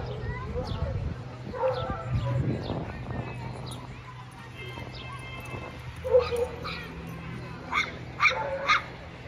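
Dogs bark and yip at a campground dog park at Cherrystone Family Camping Resort in Cape Charles, Virginia, short scattered barks at a moderate distance heard under ongoing conversation.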